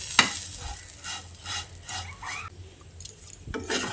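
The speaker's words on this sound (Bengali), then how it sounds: "একটা খুন্তি আর চামচের সাহায্যে এইভাবে ভেজে নিচ্ছি।" Vermicelli frying over a low gas flame, stirred with a spatula and spoon: close scraping and rasping strokes against the pan with a soft sizzle underneath, in irregular bursts and short pauses.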